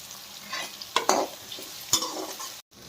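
Dried red chillies and curry leaves frying in oil with turmeric for a cauliflower fry, giving a soft sizzle broken by a few quick scraping stirs of the spoon against the pan.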